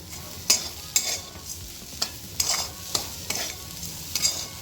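Grated fresh coconut with sugar is stirred in a pan for coconut modak filling, a spatula scraping in repeated short strokes about once a second over a faint sizzle, close and clear with no talk.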